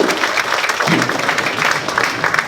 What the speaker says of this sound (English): First timers, clap your hands, would you please?